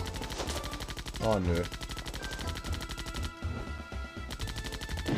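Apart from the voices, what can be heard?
gunshots from the video game Zombie Panic in Wonderland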